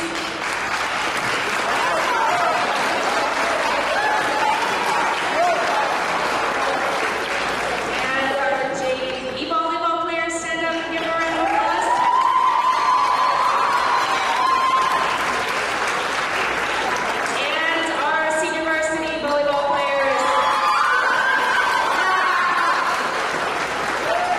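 Audience applause for club volleyball players at a school athletic ceremony, continuous crowd clapping for over twenty seconds with some voices and cheering mixed in.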